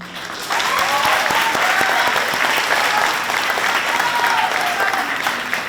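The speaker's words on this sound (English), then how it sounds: "I thought it was appropriate that we celebrate and applaud Zoe" Graduation ceremony crowd applauding a graduate, a sustained, even roar of many hands clapping that swells in quickly after a brief quiet start and holds strong and close throughout, with scattered cheers within it.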